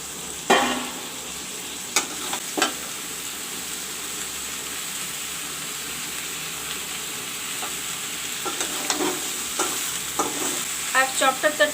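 Brinjal and spices frying in a pan, with a steady close sizzle throughout and occasional scraping stirs and clinks of a spoon against the pan.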